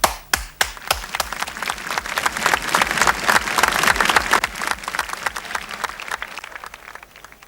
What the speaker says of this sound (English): When you clap, sound energy is produced.